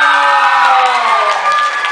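A crowd at a talk event in the MBK shopping mall cheers loudly with sustained high-pitched shouting and screaming. The sound is close and continuous, and no distinct clapping stands out.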